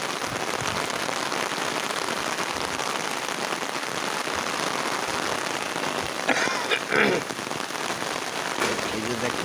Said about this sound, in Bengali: এই রাস্তায় দেখেন বৃষ্টি কেমন।